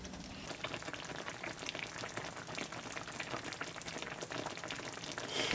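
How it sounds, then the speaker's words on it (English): Chicken in red wine sauce simmering in a pan, a dense, steady bubbling and crackling hiss that continues without pause and rises slightly toward the end. "So we're just going to let these simmer for about 5 minutes to incorporate the flavors"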